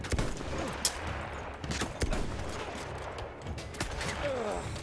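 Gunfire in the World War I shooter Battlefield 1, a dense stretch of battle noise with repeated sharp shots and bursts that fits machine gun fire, loud and continuous through the clip without talk.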